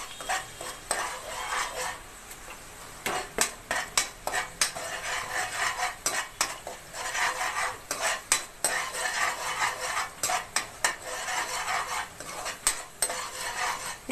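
Crab curry is stirred in a pan with a spoon, giving repeated clinks and scrapes against the metal in uneven bursts over a quiet, steady sizzle.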